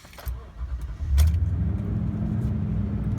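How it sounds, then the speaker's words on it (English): A 5.7L V8 in a 2014 Toyota Tundra pickup cranks briefly and catches, then settles into a loud, steady low idle rumble close by, with a faint jingle of keys as it starts. "I'm going to go ahead and start the truck up"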